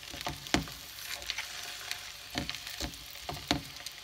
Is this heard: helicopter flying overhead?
no